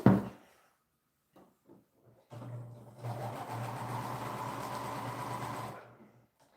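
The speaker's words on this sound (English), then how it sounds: "So now I'm going to go ahead and sew that." A sewing machine stitching fabric for a handmade gift, starting with a low hum and rising into a fast steady whirring run of about three seconds before stopping, close and alone after a few faint handling clicks.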